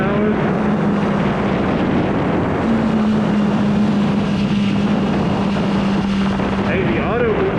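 A Kawasaki Ninja ZX-4RR motorcycle engine drones steadily at speed under heavy wind rush on the rider's microphone, its pitch holding fairly constant throughout.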